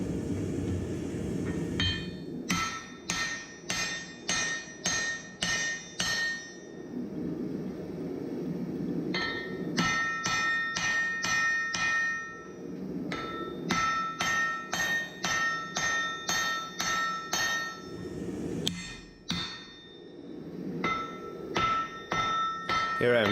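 Steel for a Damascus axe is hand-forged with a hammer, sharp ringing blows landing in quick regular runs separated by short pauses, loud and close.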